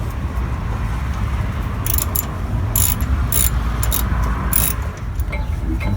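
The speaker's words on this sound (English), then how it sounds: "so I'm just going to use the ratchet." A ratchet turns a sensor bolt on a Bobcat 463 skid steer loader, making several short bursts of sharp metallic clicking over a steady low mechanical rumble.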